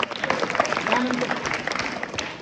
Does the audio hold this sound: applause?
yes